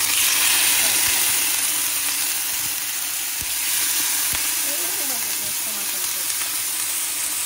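Chicken sizzles in a hot pan for a celery and carrot stir fry, a loud continuous frying hiss with occasional stirring clatter, close and steady throughout.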